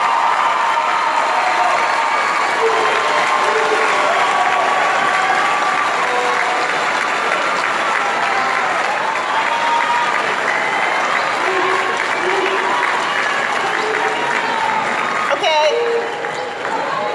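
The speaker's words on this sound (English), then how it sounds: "give a round of applause to the family and friends who loved and brought you here" A graduation crowd at a high school ceremony applauds family and friends, with loud, dense, sustained clapping and scattered cheers filling the whole stretch before tapering off near the end.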